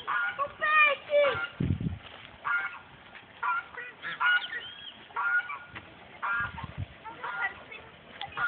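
A duck gives repeated loud, nasal honks in short bursts. Several people talk nearby, and their voices mix with and overlap the calls.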